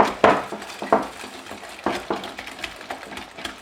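Egg yolks and sugar for a white chocolate mousse are whisked in a bowl, giving irregular scraping and clinking strokes of a whisk against the sides, close and fairly loud with no voices.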